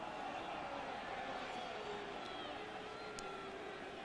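A football crowd fills the Kingdome with a steady, distant roar, urging the team to go for it on fourth down while a commentator talks over the din.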